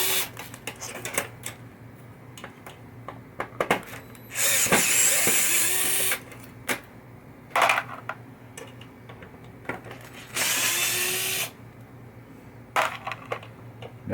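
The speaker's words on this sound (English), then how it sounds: "Now we're going to take these screws out here, the ones that hold it to the playfield." A power drill backs screws out of the playfield of a 1976 Bally Night Rider pinball machine in three loud whirring bursts of one to two seconds each, separated by quieter clicks and tool handling.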